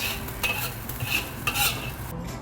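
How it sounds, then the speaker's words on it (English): Dried shrimp fry in oil in a wok with a close, steady sizzle, broken by several quick spatula scrapes and tosses, and no one speaks. "Now I add in the dried shrimp, and then I fry until it's very fragrant."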